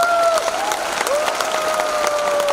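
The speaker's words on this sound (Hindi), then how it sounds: "so हमारे डायरेक्टर्स के लिए तालियां बजाइए" An audience at a business presentation applauding, dense steady clapping from a crowd filling the room, fairly loud, with a faint tonal whine running beneath it.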